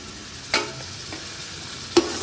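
Chicken frying with garlic, ginger and green chili paste in a pan, a soft continuous sizzle with two sharp stirring scrapes, quiet and close.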